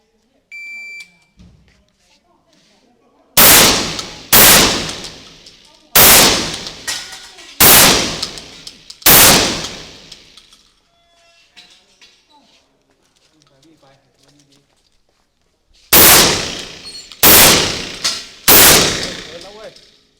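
Firearms training on a range: loud, close single gunshots in spaced groups, five in quick succession, then three more after a pause, with a faint beep at the start and quiet gaps between.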